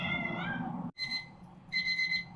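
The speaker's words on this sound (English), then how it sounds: "Hi, kitty." A pet cat meows in a home kitchen, two short high calls with a brief pause between them, close and fairly clear over low room noise.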